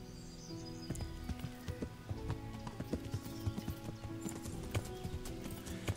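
Horse hooves clip-clopping in the medieval role-playing game Kingdom Come: Deliverance, a brisk, close series of sharp hoof strikes at walking pace with faint background game ambience and no talk.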